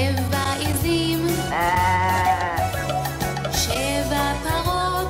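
Young students at a school performance mimic goats with wavering bleats sung over continuous loud music, several voices repeating the bleat in rhythm with the song.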